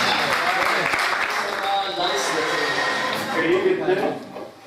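Audience applause fills a mushaira gathering of Urdu poetry, a dense steady wash of many hands clapping throughout, fading near the end.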